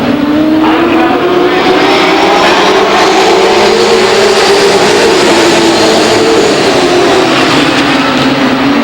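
Race cars at Lake Geneva Raceway in 1993 drone and accelerate steadily down the track, a loud continuous engine roar with rising pitch, and a faint voice now and then underneath.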